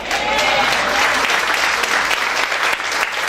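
A church congregation at a Pentecost service claps in loud, dense, sustained applause that fills the whole stretch, steady and close without letting up.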